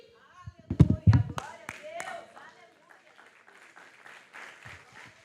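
Congregation clapping hands at a church sermon, a short loud burst of claps near the start that fades, with a voice talking over and after it.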